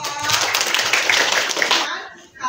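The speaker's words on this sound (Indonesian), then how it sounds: "Tepuk tangan dulu dong untuk kelompok Muka." A school class clapping for a presenting group, a short burst of many hands clapping up close, fading out after about two seconds.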